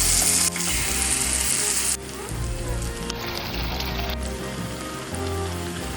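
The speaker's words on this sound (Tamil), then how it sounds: "எண்ணெயில் ஒரு சின்ன கரண்டி மாவு எடுத்து இதில் ஊற்றிக்குங்க" Wheat appam batter fries in hot oil in a kadai, giving a loud, dense, continuous sizzle and crackle that shifts in intensity as it bubbles, heard alone without talking.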